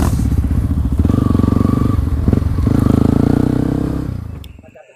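Dirt bikes, a Yamaha WR155 and a Honda CRF150, climb a steep uphill track, engines close and loud with a throbbing, revving pulse and some clattering, before the sound drops off sharply at the end.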